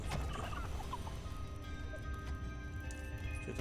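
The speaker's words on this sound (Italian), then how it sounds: "Here, delicious gobblers were raised to serve as food for the horde." Turkeys gobbling in the Dungeons 4 video game, quiet repeated fowl calls over a low steady game ambience, no talking.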